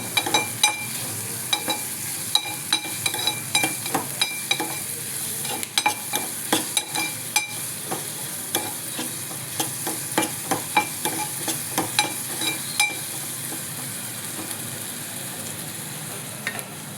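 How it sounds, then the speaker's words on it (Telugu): Sliced onions frying in a pan with turmeric and salt, a continuous close sizzle broken by repeated scraping clicks of a spoon stirring the pan at an uneven rhythm. "ఉల్లిపాయలోనే కాస్త పసుపు కాస్త ఉప్పు వేసి వేయించేస్తానండి"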